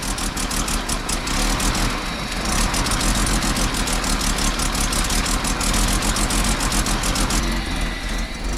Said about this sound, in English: Sounds like she's running on, got a couple cylinders down, but she still crank up.